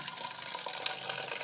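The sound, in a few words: pouring red rose floor cleaner into a bottle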